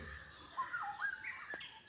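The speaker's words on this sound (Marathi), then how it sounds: "पहाटेच्या शांततेत सूर्यकिरणासोबत पक्ष्यांचा हा आवाज" Birds call at dawn on a quiet, foggy Konkan morning, a few faint scattered chirps and whistled notes drifting through near silence.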